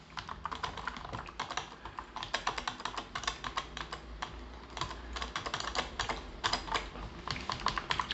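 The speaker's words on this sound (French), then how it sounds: "Donc le clavier est là, donc c'est un clavier bien sûr AZERTY" Steady, quick typing on a silent wireless AZERTY keyboard (Perixx PERIDUO-714), soft muted key clicks in irregular bursts, close by and fairly quiet, with no talking.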